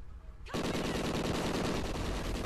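Rapid automatic gunfire in a multiplayer shooter video game bursts in after a brief quiet moment, then keeps up a dense, loud, continuous rattle of shots to the end.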